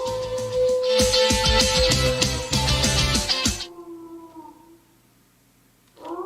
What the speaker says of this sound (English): we need the dog noises here